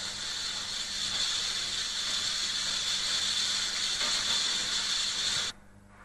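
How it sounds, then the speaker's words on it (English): High-pressure water jet hisses steadily into the smoke box end of a British Rail steam locomotive boiler during washout, a loud continuous spray that cuts off abruptly near the end. "start to wash out the smoke box end of the boiler"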